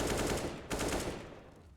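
Rapid automatic rifle spray in Counter-Strike on the Vertigo map during an IEM Cologne 2022 match, a dense rattling burst of shots, loud and close, with a second burst after a brief break, no voices.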